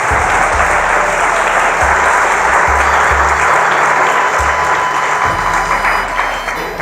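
Sustained, loud applause from a church congregation during an Urdu-language Bible sermon, with children holding Bibles present; dense clapping fills the whole stretch without a break, steady from start to finish.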